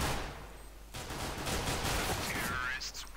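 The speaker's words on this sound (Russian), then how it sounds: "Хьюси отстреливает Сентриза" Rapid gunfire during a competitive Counter-Strike match, a short stretch of crackling shots as one player guns down an opponent, with a commentator talking over it.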